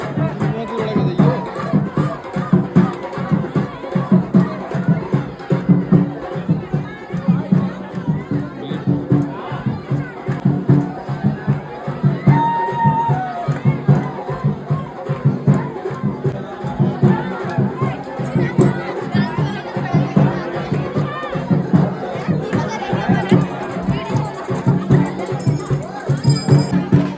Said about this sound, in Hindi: वाह भाई भीड़ तो बहुत है यहाँ।